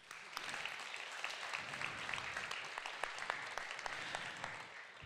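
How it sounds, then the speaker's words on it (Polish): Audience applause at an award ceremony, a steady wash of many hands clapping, moderately distant and sustained throughout. "A my z pełną energią brawa."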